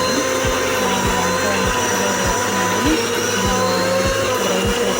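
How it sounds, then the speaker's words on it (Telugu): An electric mixie grinds masala with garlic and tamarind, a steady high whine with a regular thumping rattle of the contents tumbling in the jar. "మసాలాలు గ్రైండ్ చేసుకుంటున్నాను ఫ్రెండ్స్."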